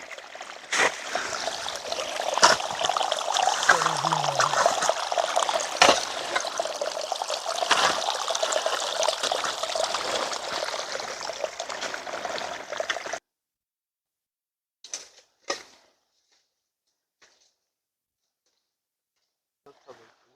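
Water trickles and splashes steadily onto flowers being watered for several seconds, then stops abruptly, leaving near silence broken by a few brief knocks.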